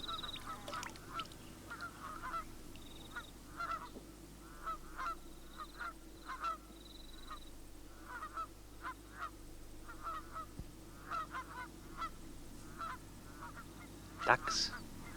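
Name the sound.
Canada geese honking on a lake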